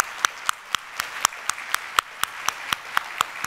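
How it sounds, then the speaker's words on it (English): At an awards event, a small group claps in a steady rhythm, with sharp, evenly spaced claps close by rather than a full crowd roar. "Let's give these folks a hand."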